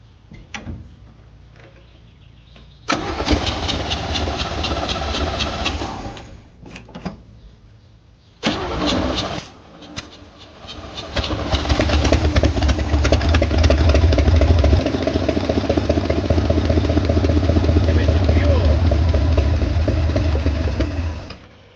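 An old car engine cranks in several long bursts of starter whirring, then catches roughly and keeps running loud and steady near the listener, with no speech over it.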